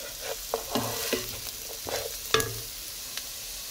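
Smoked fish and onions frying in a pan for palabok, a soft steady sizzle broken by several scraping stirs and a few sharper clacks, close and fairly quiet, no talking.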